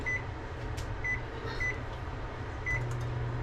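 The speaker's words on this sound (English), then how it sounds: "run the microwave for 8 minutes" A microwave oven hums steadily with a low, even drone, with a few faint beeps and clicks now and then.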